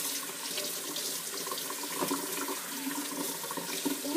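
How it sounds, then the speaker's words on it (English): Tap water runs steadily into a sink to warm ice pop molds for berry ice pops, a continuous close splashing flow with no talk. "Now we have to put them in like warm water."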